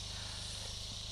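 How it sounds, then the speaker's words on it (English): Cicadas buzz in summer heat among storm-damaged trees, a steady, dense drone with a faint low generator hum underneath, no talking. "there's a lot of cicadas around because of the heat, I guess. They're very noisy."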